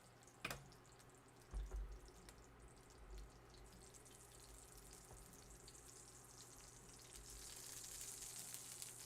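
Soft, steady sizzling of oil in a hot pan while cooking pork chops, with a couple of thumps early on and the hiss swelling slightly toward the end.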